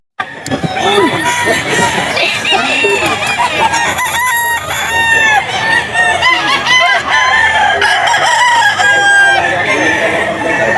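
Roosters crow repeatedly and chickens cluck throughout a busy pet market where farm breeders sell birds, loud and close, with people talking in the background.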